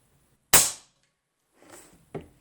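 A single sharp crack from an Airmaks Arms Caiman X regulated PCP bullpup air rifle with a CZ barrel, fired at a target 75 yards away, followed after a pause by a softer rustle and a faint distant impact.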